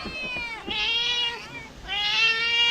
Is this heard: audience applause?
no